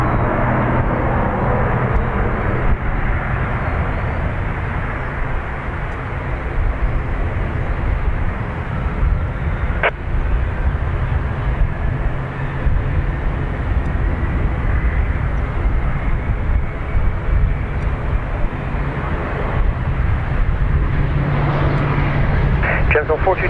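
An ATR turboprop rolls and climbs away from runway 28 right at Dublin Airport, its broad engine drone loud and steady for the whole stretch with a faint rising whine, no voices over it.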